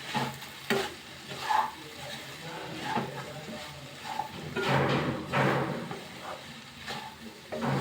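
Potato and soya chunks stirred in a pan on a low flame, with soft scraping stir strokes over a faint sizzle, close and fairly quiet.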